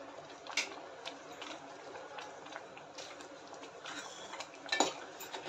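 A spoon stirs homemade momo chutney with red chili sauce in a bowl. Soft, scattered clinks and scrapes come close and fairly quiet, with a louder knock near the end and no talk.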